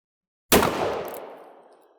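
A single loud, close gunshot from a Taurus .38 Special handgun, a sharp crack that rings out and decays over about a second and a half.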